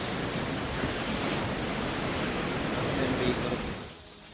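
Big sea waves crashing on the Karnataka coast as the Arabian Sea turns rough under heavy rain: a steady, dense roar of surf that holds loud throughout, then drops away sharply near the end.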